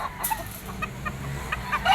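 A super brown red gamefowl rooster at a poultry market in Padre Garcia, Batangas gives a few soft, brief clucks close by over faint background noise.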